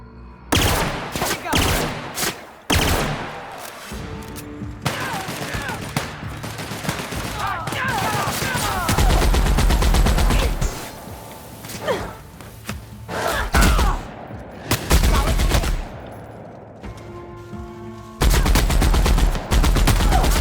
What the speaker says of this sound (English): This thing sounds a lot like the Warthog machine gun from Halo.